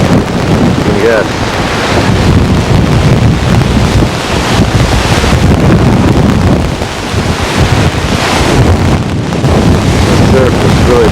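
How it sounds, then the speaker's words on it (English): Heavy, continuous roar of surf mixed with buffeting wind gusts that batter the microphone, loud and close throughout with no pauses. "The surf is really pounding."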